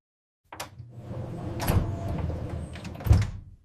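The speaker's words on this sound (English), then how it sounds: "Close the door." A door swings shut in an everyday home setting, with a faint click near the start, a shuffling rumble through the middle and a louder close thud near the end.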